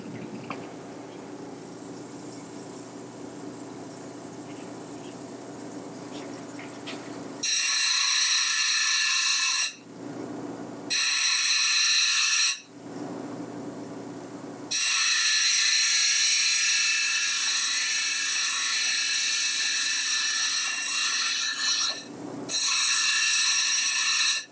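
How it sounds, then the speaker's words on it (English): A lapidary grinder works a piece of crazy lace agate, giving a steady mechanical hum broken by several louder, harsher grinding stretches as the stone is pressed against the wheel, close and loud. "I got the grinder going. I'm doing a fun little piece of crazy lace."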